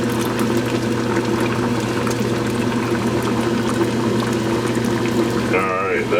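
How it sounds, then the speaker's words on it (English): Worcestershire sauce poured into a pot of red beans and rice with butter, a close liquid splashing over a steady bubbling simmer and kitchen hum. "Now we're gonna add some Worcestershire sauce."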